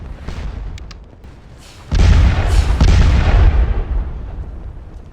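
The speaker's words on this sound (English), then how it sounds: "Oh, and then we've got some of the 12-pound cannons, baby." 12-pound cannons firing in the Napoleonic Waterloo game Scourge of War: Remastered, a few distant pops followed by a loud, sustained roaring barrage with booms rolling over one another.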